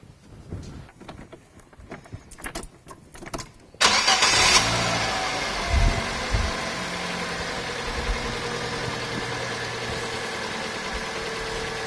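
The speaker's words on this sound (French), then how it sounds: "je vais faire démarrer le moteur pour remplir le filtre" A Fiat Panda II engine cranks briefly after an oil and filter change, catches with a loud roar, then settles into a steady idle that hums on for several seconds.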